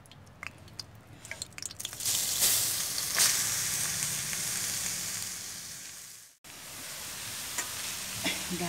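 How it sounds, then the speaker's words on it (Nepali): Carrots frying in hot ghee for carrot halwa, with water-spattered ghee crackling: a steady loud sizzle with scattered pops, briefly cutting out before resuming. "अब एकैछिन 2-3 मिनट जति चाहिँ म यो गाजरलाई भुट्छु"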